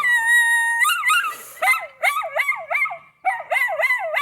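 A dog howling in long wavering, rising and falling cries, close and loud, with brief breaks between howls and a yip-like catch; no talking.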